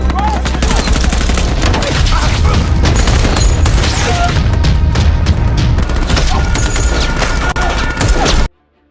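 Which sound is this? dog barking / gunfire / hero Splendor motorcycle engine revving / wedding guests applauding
gunfire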